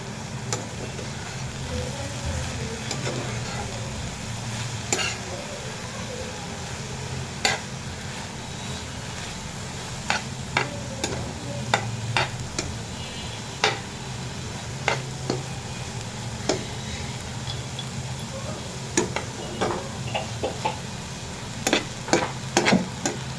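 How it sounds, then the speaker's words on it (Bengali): Jute leaf greens frying in a pan while being stirred, a steady soft sizzle under repeated scraping clicks and taps of the spoon that grow busier toward the end. "দিয়ে দিলাম শাকটা একটু লাড়া দিয়ে নিচ্ছি"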